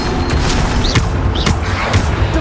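Bombarda spell explosions in the video game Hogwarts Legacy go off as several heavy booms about half a second apart, mixed with bright magical whooshes.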